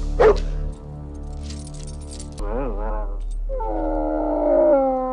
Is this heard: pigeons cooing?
no